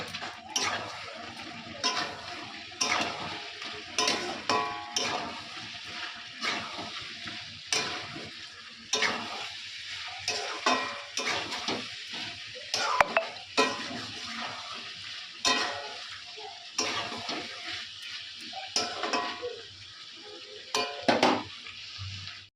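Chicken with masala frying in a pan: bursts of loud sizzling come again and again as a utensil stirs and scrapes the pot, with occasional clinks, and nobody talks.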